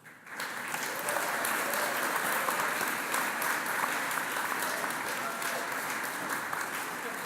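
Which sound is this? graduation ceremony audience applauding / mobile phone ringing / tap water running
graduation ceremony audience applauding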